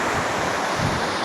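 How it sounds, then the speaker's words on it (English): Strong gusting wind buffeting the microphone at canal locks, a continuous loud roaring rush mixed with the sound of water flowing through, with no speech over it. "it is incredibly bloody windy"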